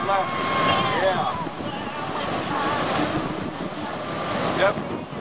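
Ocean surf rolling and washing steadily at a high school surf contest at Jupiter Inlet, a broad continuous wash with wind noise, while a commentator's voice talks over it.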